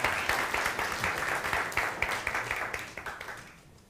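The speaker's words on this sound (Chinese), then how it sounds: "好，咱搁一摆鼓掌来" Church congregation applauding during a Christmas thanksgiving worship service, a steady roomful of clapping that gradually thins and fades out toward the end.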